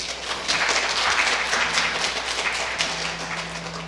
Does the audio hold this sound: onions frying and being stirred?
no